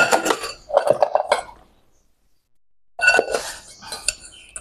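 A scratched inner pot from a Japanese rice cooker is handled, giving close metallic clinks and scrapes in two bursts with a short silent gap between them.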